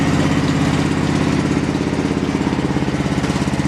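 A trail mower engine runs loud and close in first gear, a continuous rough low putter with a steady pulsing beat throughout.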